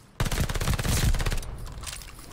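PPSh-41 submachine gun with a recoil booster firing in Call of Duty Vanguard, a loud rapid continuous burst of close automatic shots, then tapering into echoing fire.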